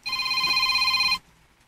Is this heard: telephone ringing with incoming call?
yes